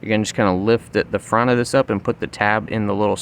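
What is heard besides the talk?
No everyday noise stands out behind the speech.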